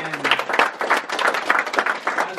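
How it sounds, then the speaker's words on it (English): An audience gives a round of applause at a business talk on African and diaspora entrepreneurship, a steady patter of many hands clapping close by in a fairly small room, with no talking over it. "as we give a round of applause and open it up to questions"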